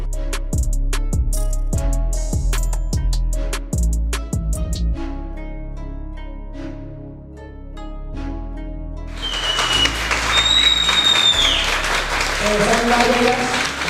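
At the opening of a Xiaomi concept store, a run of ringing, resonant struck tones gives way to a swell of crowd applause, loud and sustained, with voices mixed in.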